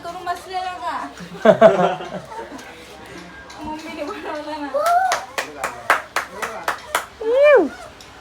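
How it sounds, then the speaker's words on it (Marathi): Hands clap at home in several short bursts of quick, close claps for mummy, mixed with chuckles and laughter, while people speak and cheer over them. "टाळ्या टाळ्या झाल्या पाहिजे मम्मीसाठी टाळ्या झाल्या पाहिजे टाळ्या"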